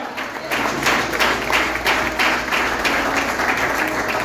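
A church congregation at a family worship service breaks into sustained applause, a steady dense wash of clapping that holds at an even level for several seconds with no voices over it.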